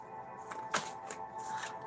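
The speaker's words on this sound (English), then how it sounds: "I do not know how to shuffle cards." A deck of affirmation cards being shuffled by hand, giving a few soft papery riffles and slaps over about two seconds, close and fairly quiet.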